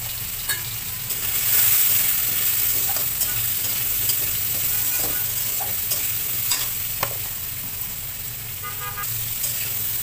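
Spinach and mixed vegetables with salt and turmeric being stirred in a pan, a loud close sizzle with intermittent scraping and clinks of the utensil against the pan.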